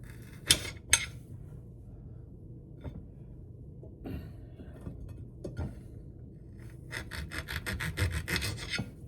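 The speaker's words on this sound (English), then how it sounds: "Kind of sawing some of them" A knife rasps and scrapes in short strokes through pieces of fat, with a few sharp clicks early on and a quicker run of sawing strokes toward the end, fairly quiet.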